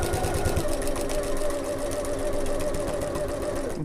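A sewing machine runs steadily for nearly four seconds, stitching an Adventurer Sling bag and overlapping a few stitches to secure the seam, a continuous close mechanical whir that cuts off abruptly at the end.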